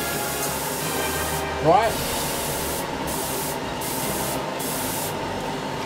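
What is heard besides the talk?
spray painting a Panther Panzer tank model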